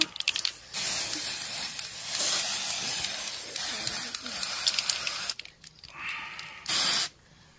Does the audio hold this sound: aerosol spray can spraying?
yes